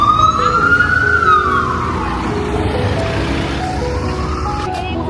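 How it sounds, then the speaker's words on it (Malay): An ambulance siren wails with rising and falling tones over steady city traffic in Perth, fairly loud and close by, sweeping up then fading into the road rumble. "Ambulans."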